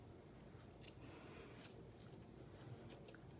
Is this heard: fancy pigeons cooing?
no